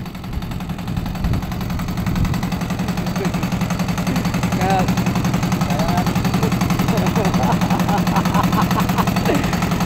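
A sports car's engine idles with a steady, low rumble that runs unbroken through the whole stretch, while people talk loosely over it nearby.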